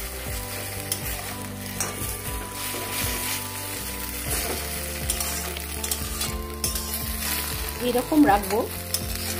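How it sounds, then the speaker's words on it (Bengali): Egg frying in a hot pan, stirred and broken into pieces, makes a loud continuous sizzle with spatula scrapes and a few knocks on the pan, and a brief spoken phrase near the end. "পিঠটা একটু ভাজা ভাজা হয়ে গেছে, এবারে আমি নেড়ে নেব।"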